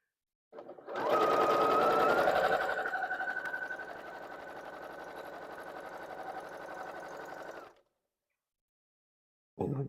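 Sewing machine stitching quilt pieces together, a close continuous whirring run that starts loud, eases slightly and then stops, followed by silence and a brief restart at the end.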